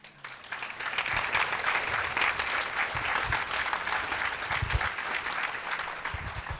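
Audience applause rises quickly into a full, sustained round of clapping from a sizable crowd, holding steady and fairly loud with some low thumps underneath until the end.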